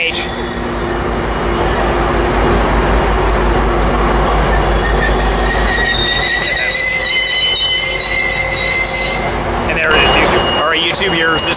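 A train passes close by at the Fullerton station with an F59 locomotive at the rear, a loud continuous rolling rumble with high, shrill wheel squeals and some clatter, and voices are heard briefly.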